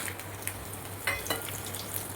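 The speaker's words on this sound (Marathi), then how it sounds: "आता याच्यामध्ये मी टाकणार आहे लाल सुक्या मिरच्या" Dry red chillies crackling in hot oil with cinnamon for pickle, a close steady sizzle with a few sharper pops and a light stir, no voices.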